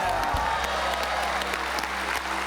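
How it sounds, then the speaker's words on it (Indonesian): Studio audience applause for a performer on a TV talent show, a brief burst of loud clapping and crowd noise over a steady low hum. "luar biasa tepuk tangan buat Romi Katepel"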